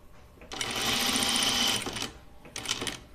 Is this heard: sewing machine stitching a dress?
yes